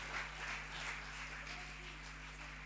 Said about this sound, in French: Let's clap for Amen and his Acclamons leadership.